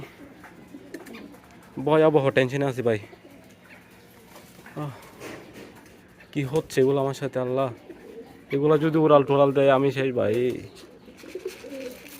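Racing homer pigeons coo in several bursts of repeated, throaty calls, close and fairly loud, with quiet pauses between the bursts.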